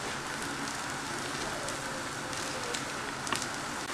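Beaten eggs fry in a pan over a high flame, a dense, even sizzle like light rain that crackles faintly and steadily throughout, heard up close with no voices.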